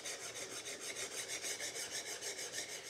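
A hand plane blade is honed on a sharpening stone, working off a heavy burr on the back side. Steady rhythmic rasping strokes repeat back and forth at close range, about five per second, with no talk.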